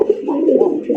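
A Rasgolla (Raj Golla) pigeon coos at close range, a short, loud, low throaty burble rising and falling over about a second, with no talking.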